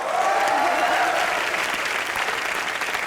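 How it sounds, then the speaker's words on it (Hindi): Studio audience at a live comedy show bursts into loud, sustained applause, dense clapping holding steady for about three seconds with no talk over it. "तालियां इसके लिए।"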